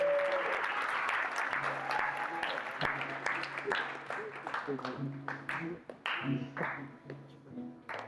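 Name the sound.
applause for the actors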